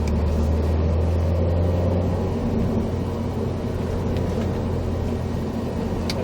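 A Subaru WRX STI engine drones steadily on a driving-course track, a loud, constant low rumble that holds at a near-even pitch throughout, with no talking.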